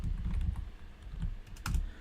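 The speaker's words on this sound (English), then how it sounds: "through this microphone it sounds like a clicky keyboard" Close-up keyboard typing, a run of quick clicky keystrokes in uneven bursts with short pauses, fairly quiet.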